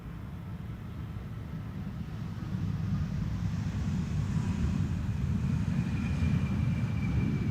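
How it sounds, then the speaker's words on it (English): An Embraer 175 airliner coming in to land, a broad, steady engine roar that grows slightly louder and nearer, with a faint high whine drifting across as it floats in. "Here we have an Embraer 175."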